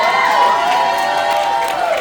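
A theatre audience at a song launch event cheers and shouts for a performer, in a busy crowd roar that swells and holds for about two seconds.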